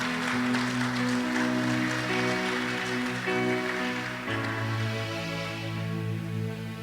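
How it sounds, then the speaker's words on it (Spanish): Church congregation applauding during a sermon, dense steady clapping over sustained organ or keyboard chords that change partway through. "Aplauda al Señor por esta palabra"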